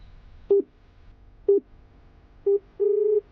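A steady telephone busy tone: three short beeps followed by a longer one, loud and clear with no talking.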